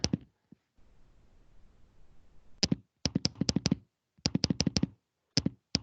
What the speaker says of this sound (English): Sorry for the clicking noise.